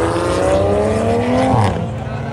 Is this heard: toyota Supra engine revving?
yes